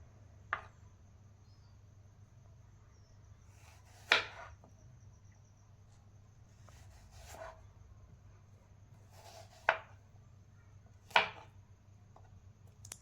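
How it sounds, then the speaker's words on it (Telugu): A knife cuts a peeled apple into small pieces. Four or five crisp, separate chops are spaced a few seconds apart, with a steady low hum underneath. "యాపిల్ ఇలా పీల్ చేసిన తర్వాత మనము చిన్న చిన్న ముక్కలుగా కట్ చేసుకోవాలి"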